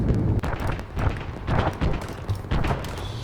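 Repeated heavy booming bursts of Arma 3 gunfire, several shots from a vehicle's PKT machine gun in quick succession, loud and punchy against a rumbling background.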